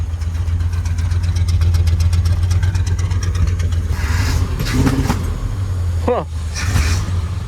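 A Chevy big block 454 fitted with an Edelbrock intake idles steadily up close, with a couple of quick throttle blips rising and falling near the end, and a voice exclaims briefly over the engine.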